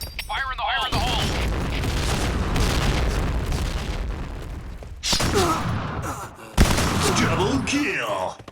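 Grenade blasts sound in a shooter video game: a deep boom starts a long rumbling roar, then further sharp explosive bursts follow, one very loud and punchy, with voices speaking over the action.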